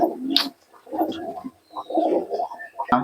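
A pair of Giribaz pigeons cooing at a pigeon sale, with several close, throaty coo phrases broken by short pauses and a sharp flutter-like burst near the end.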